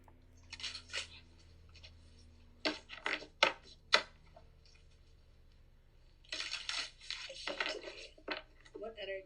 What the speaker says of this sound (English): See me shuffling.